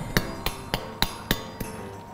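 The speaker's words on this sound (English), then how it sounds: "I love to get my knife in there and do that cracking at the table" A knife cracks through crisp roast pork crackling at a table, six sharp, evenly spaced crunchy snaps, close and fairly loud with no talk.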